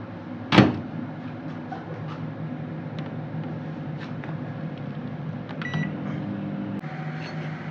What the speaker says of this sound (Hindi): अवन में रख के।